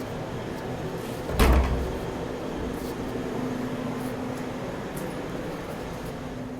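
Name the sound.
door opening in abandoned theatre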